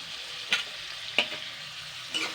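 Onion, tomato and chopped green chili frying in a pan with a soft steady sizzle, and three separate scraping stirs of a spatula at close range.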